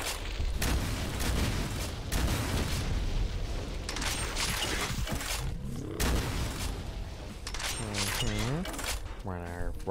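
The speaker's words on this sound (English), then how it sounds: "Rocket launcher." Rocket launcher blasts in Doom with the Project Brutality mod: heavy booming explosions and firing bursts packed into a loud, continuous wall of game combat noise, with hardly any quiet between impacts.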